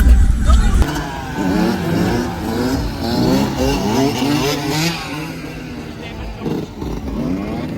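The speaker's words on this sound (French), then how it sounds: "Oh les motos." Motorcycles rev and rumble past on a street in Martinique, loud engine tones rising and falling in waves while people talk over them.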